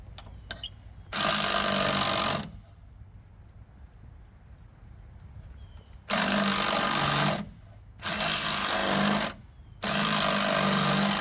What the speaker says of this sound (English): here I'm gonna drill a little bit, see what happens